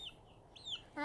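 Backyard homestead chickens give brief soft clucks close by against a quiet outdoor background.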